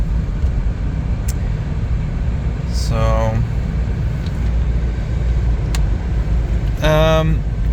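A Land Rover Discovery cruises around town, its engine and road noise a steady low rumble inside the cabin, with a couple of brief squeaky tones and someone speaking a word over it.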